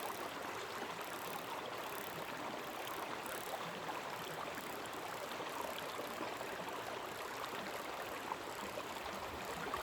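Water rushes steadily through a gold mining sluice in Colorado, a continuous close babbling flow at fairly low level with no voices.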